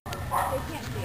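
A puppy's short bark near a barbed-wire fence in Guatemala, one quick yip rising over a steady low rumble of background noise while a person talks nearby.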